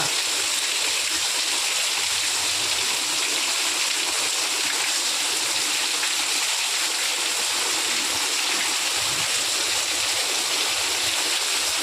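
Rainwater rushing along a canal during a rainstorm: a continuous, loud, even wash of flowing water with no breaks or voices.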